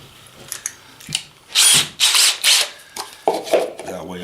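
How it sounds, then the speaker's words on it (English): A power drill bites into a plastic hummingbird feeder to start a pilot hole, with several short loud whirring bursts between clicks and handling noises, close up. "We're going to drill a pilot hole right in the middle first."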